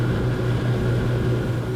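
The engine of a Ranieri Next 275 LX motorboat runs under way, a steady loud droning hum with a low throbbing pulse and constant water rush, heard alone.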